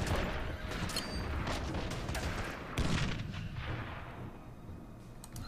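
Gunfire and artillery in the strategy war game Order of Battle: a dense, continuous run of booming shots and blasts that gradually fades toward the end.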